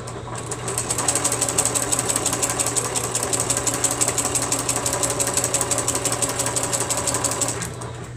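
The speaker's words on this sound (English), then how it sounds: "I just put my sewing machine back in here." A sewing machine runs steadily for about seven seconds, its rapid needle chatter and motor hum holding an even, close rhythm from start to stop with no talk over it.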